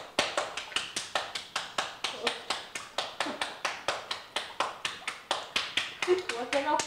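Hand clapping at a koi pond to call the fish to feed, a steady run of sharp, evenly spaced claps close by, with a few faint voices near the end.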